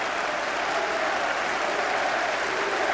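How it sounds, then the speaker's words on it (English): Celtic fans applaud around the stadium at the final whistle of a 1992 Scottish Premier Division match against Partick Thistle, a steady distant wash of crowd clapping filling the ground. "Applause rings round the ground from the Celtic fans."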